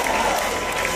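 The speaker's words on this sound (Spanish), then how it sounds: "Un aplauso." Brief burst of audience applause and crowd noise at a cosplay parade at a fandom expo, a dense clapping wash filling the whole moment.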